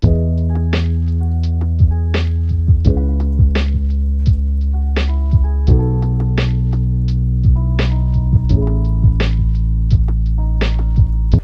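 A mellow lo-fi beat with a deep sustained bass line, sliding low notes and crisp snare hits repeating in a relaxed loop.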